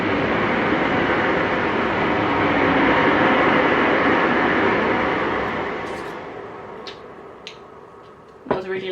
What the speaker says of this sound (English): That was a really loud train.